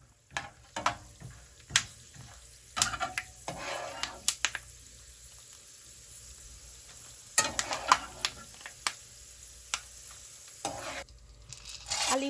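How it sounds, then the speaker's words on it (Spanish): Small batches of pumpkin seeds fry in oil for salsa macha, with a soft sizzle under irregular sharp pops and clicks as the seeds burst and jump, heard up close. "también decidí freír las semillas en cantidades pequeñas para que no se me quemaran."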